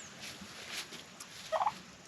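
A domestic tom turkey on a small homestead gobbles once in a quick rattling burst of several pulses, moderately close, against a quiet outdoor background with no talk.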